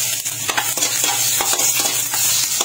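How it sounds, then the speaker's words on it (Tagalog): Ginger sautéing in hot cooking oil in a pan makes a close, steady sizzle, broken by short stirring scrapes at an irregular pace, with no voices. "Sa ating kawali ay nagpainit ako dito ng mantika. Tapos naggisa ako dito ng luya."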